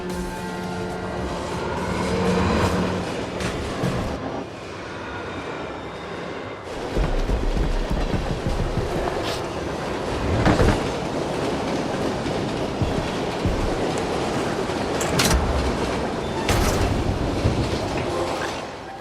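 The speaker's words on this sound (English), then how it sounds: "the train is a VIP transport, charged with ferrying a good portion of MG's upper brass" Train rolling along rails in the video game Ascent, a continuous loud rumbling clatter with rhythmic wheel thumps and occasional sharper metallic clanks throughout, no talking.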